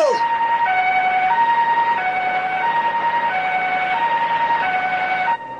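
An ambulance siren in a Hindi animated cartoon wails steadily, alternating between two pitches in a regular hi-lo pattern, loud and close, with no talking.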